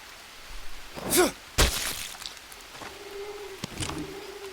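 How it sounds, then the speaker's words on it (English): Goliath bird call in the jungle survival game Green Hell, a few faint cooing and groaning calls spread apart over a quiet ambient background, fairly distant and with no talking. "Goliath bird here."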